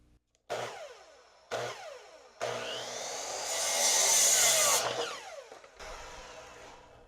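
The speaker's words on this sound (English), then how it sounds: "It's just your standard miter saw." A standard miter saw cuts wood in a workshop: three short spin-ups each winding down, then a longer loud cut through the board, and a final brief whir as the blade coasts, with no talking.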